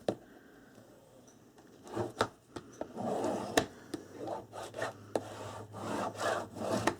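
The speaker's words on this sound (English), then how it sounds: "So turn this over and we burnish this half right here." A glued, paper-wrapped chipboard piece being burnished by hand, giving soft, close rubbing strokes of uneven length with a few sharper scrapes, fairly quiet and with no talking.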